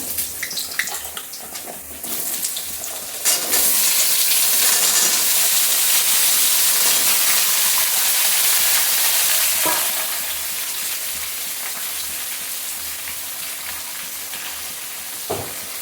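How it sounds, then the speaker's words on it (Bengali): Raw papaya frying in a pan with salt and turmeric, a loud, dense sizzle that swells early with stirring clatter, then settles into a slightly quieter continuous hiss. "পেঁপেটাকে একটু নুন হলুদ দিয়ে ভালো করে ভেজে তারপর মশলাটা তার মধ্যেই দিয়ে দেব।"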